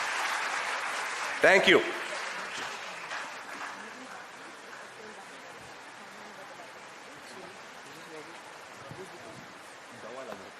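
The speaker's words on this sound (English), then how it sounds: "Round of applause." Audience at a school climate action assembly in Bengaluru applauds the school teams with sustained, moderately distant clapping, peaking in a brief loud burst early on, while a speaker talks over it.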